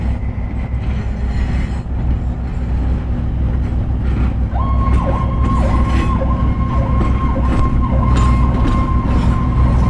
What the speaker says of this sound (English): Right across the street from the North Carolina Transportation Museum is a fire station, and they got a call as we were recording.